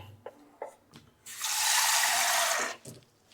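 Water streams steadily from a tap into a cooking pot of rice for chicken biryani for about a second and a half, between a few light clicks and clatters of kitchenware.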